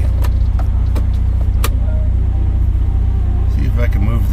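Loud, steady low engine rumble from a pickup truck straining to move on an icy surface, with a few sharp knocks and creaks over the drone, close and continuous.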